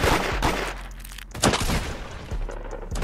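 Bursts of gunfire in the Roblox game Da Hood, several sharp shots spaced across a few seconds under a steady background din, moderately loud.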